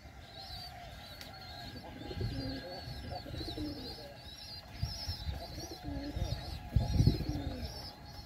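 Pigeons in a coop, with a squab being attacked: soft repeated cooing and rustling flurries of wings and scuffling, swelling toward the end, while a voice speaks faintly underneath.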